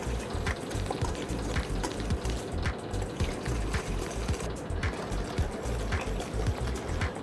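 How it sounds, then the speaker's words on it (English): Two room-temperature eggs are whisked in a bowl for chocolate walnut brownie batter, a steady, close, continuous sloshing and clicking of the whisk with no voices. "Whisk them well."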